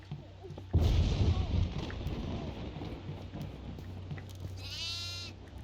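Goat bleating in the horror game Devour on the farmhouse map, a short wavering bleat near the end that follows a loud thunder-like rumble and rain noise.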